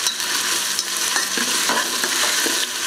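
Ingredients for ghee and coconut milk rice are tossed in a frying pan, with a loud, steady sizzle broken by repeated scraping and stirring clatters, close up, with no talking.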